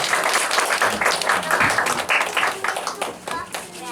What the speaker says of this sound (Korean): 하나님께 우리 영광의 박수를 드립니다